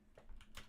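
Several clicky keystrokes on a computer keyboard at a programming desk, a short quiet burst of typing with a low steady hum underneath.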